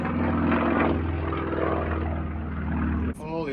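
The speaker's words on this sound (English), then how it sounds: "We have an airplane guy going crazy above us." A propeller airplane performs aerobatics overhead above a sailboat, its engine droning loud and steady with a shifting pitch, then cutting off abruptly near the end.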